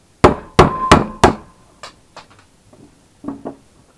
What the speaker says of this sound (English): you should then be able to drift the rivets out